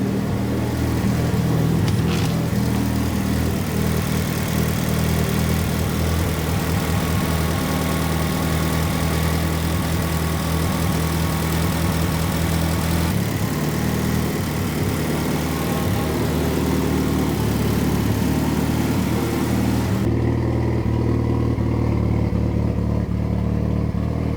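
A fully built Mitsubishi Evo 9 engine running at idle on its first start, a loud steady rumble that holds for about twenty seconds before the high end drops away near the end.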